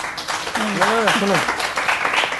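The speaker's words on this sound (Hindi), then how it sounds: "इस पे तालियां होनी चाहिए" Audience applause at a Hindi-language gathering, a steady wash of clapping from a crowd while someone speaks briefly over it.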